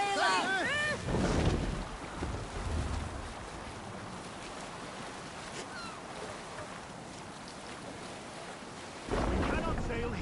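A sailing boat moves across open water in Assassin's Creed Valhalla, steady wind and wash of waves filling the scene, with louder bursts of activity at the start and near the end.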